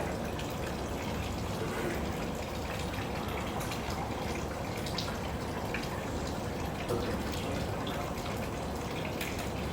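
Water runs steadily from the outlet of a Kangen water ionizer, a constant soft splashing and trickling stream heard up close, with no voices.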